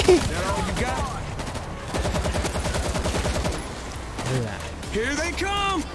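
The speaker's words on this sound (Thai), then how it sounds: "ยิงหัวมัน ยิงหัวมันยิงหัวมันล้มล้มไปแล้ว" Rapid gunfire bursts from shooting zombies in the video game World War Z, loud and continuous, overlapping with excited voices shouting throughout.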